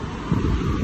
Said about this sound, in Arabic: انا فاني كاين الريح هنايا في هاد البلاصة